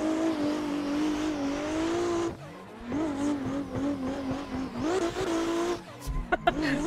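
A rotary Mazda RX-7 FD drifts in the Assetto Corsa video game, its engine held high and wavering near redline with tire squeal, a brief lift, then renewed revving before sharp clicks at the end.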